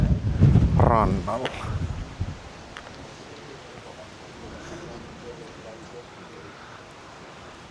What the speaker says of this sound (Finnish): Aikamoinen tuuli täällä kyllä käy täällä